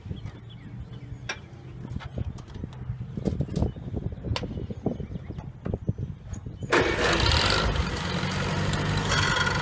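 A small Farmall Cub tractor engine cranks and catches, then runs steadily and loudly after a stretch of quieter mechanical clatter.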